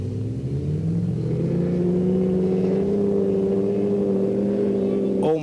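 Rally cars racing side by side on a sandy track in a 1990 Icelandic event, a Toyota among them, their engines a loud sustained drone that climbs steadily in pitch as they accelerate, with talk running over the noise.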